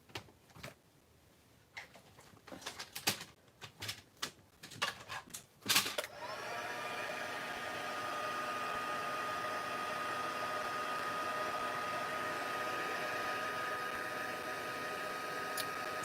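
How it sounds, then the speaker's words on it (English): Handling knocks and taps give way to a heat tool's steady blowing hiss as white embossing powder melts on black cardstock, the airy roar continuing loud and unbroken for about ten seconds. "So we're just heat embossing white powder on black cardstock."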